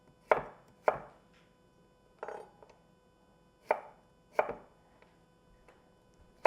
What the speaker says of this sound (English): And then I'll cut it crosswise.